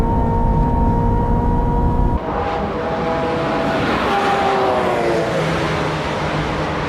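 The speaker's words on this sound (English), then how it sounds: "Here's the straightaway. Will the Ferrari 355 F1 catch up?" A Ferrari 355 F1 and a Lancer Evo racing down the straight at Fuji Speedway, with loud, sustained engine drone and whining tones that shift in pitch as the cars hold speed close by.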